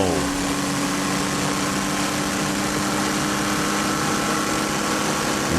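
Audi R10 TDI V12 turbodiesel race car accelerating hard out of a turn, heard onboard as a loud, steady engine drone with rising tonal harmonics throughout.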